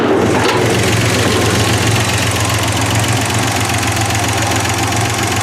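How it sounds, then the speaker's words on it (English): An engine idles steadily up close with noisy lifters, a rapid ticking, knocking patter riding over a low even rumble throughout, no talking. "the lifters are a little noisy, but they're supposed to be"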